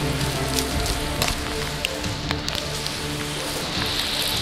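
Steady rain falls during an outdoor run in wet weather, a dense continuous patter close by with occasional brighter drops and splashes, no talk.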